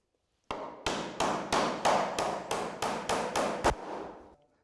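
Nails hammered to fix a roof batten onto rafters, about ten sharp, evenly spaced blows in quick succession, each ringing briefly, close and alone with no talk.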